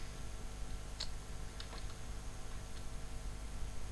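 A handful of faint, scattered keystrokes on a computer keyboard, separate light clicks over a quiet room hum.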